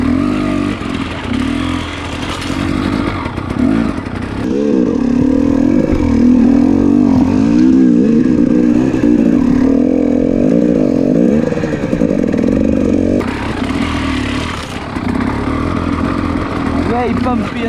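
A dirt bike's engine drones steadily while an enduro rider tackles a cold, bumpy, rutted off-road trail, its pitch rising and falling with throttle changes, loud and close throughout with wind buffeting in the background.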